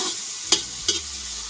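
Onion, garlic and tomato frying for a fish curry gravy give a steady close sizzle, broken by two sharp scraping stir strokes.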